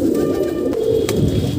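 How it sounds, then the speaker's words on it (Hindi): A green wild pigeon coos in a low, soft, steady murmur, close and continuous, with a couple of faint chirps from other birds behind it and no voices. "हरा जंगली कबूतर है"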